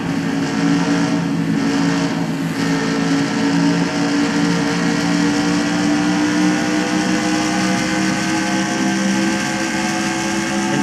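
Simulated NASCAR stock cars race in NASCAR Racing 2003, a steady dense drone of several engines holding high revs with little change, continuous and fairly loud throughout.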